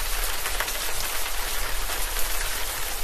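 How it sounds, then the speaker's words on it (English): Steady rain drums on a house roof during a rainstorm, a dense, even patter of drops filling the whole clip with no voices. "During a rainstorm, rain falls on your roof and collects in gutters."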